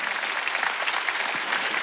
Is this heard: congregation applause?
yes